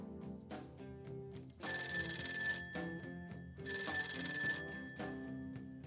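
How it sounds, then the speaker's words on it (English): A telephone rings in the video game Persona 5 Tactica: two bright, trilling ring bursts rise over quieter background music and cut off cleanly between them. "The phone."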